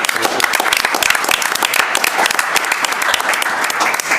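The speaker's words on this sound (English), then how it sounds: "So I think a round of applause right away to start off there." A crowd at a school district board meeting applauds loudly and steadily, dense clapping filling the whole stretch without a break.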